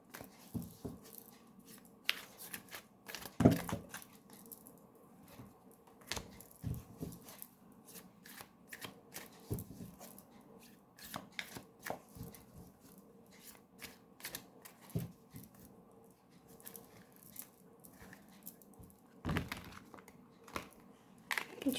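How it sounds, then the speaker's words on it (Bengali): Tarot cards are shuffled by hand in soft, quiet riffles and slaps, with irregular crisp card snaps spread across a long stretch over a faint background hum. "আমি শাফল করে নেব"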